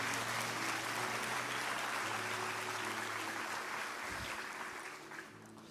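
Congregation applause in a church service, a broad, sustained roar of clapping with a low hum beneath, steady throughout and thinning slightly in the last seconds.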